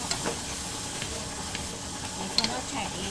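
Minced pork stirred and roasted in a pan to render off the surrounding fat, giving a steady close sizzle and hiss with faint scraping stirs and a few small pops, no voices.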